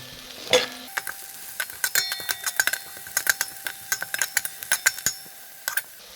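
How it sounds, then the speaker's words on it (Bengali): Onions fry lightly in oil with a quiet hiss broken by frequent sharp pops and crackles, irregular and close, with a spoon touch near the start and no talking. "পেঁয়াজের ঝালটাকে একটু হালকা ভেজে নেব"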